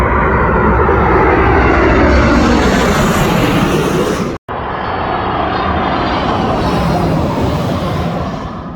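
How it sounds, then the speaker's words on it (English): Airplanes swoop low over a Taco Bell parking lot beside an airport, a loud, sustained engine roar filling the whole stretch, briefly cut by a momentary gap before the rumbling rush resumes. "You just look up and the planes come swooping right over you."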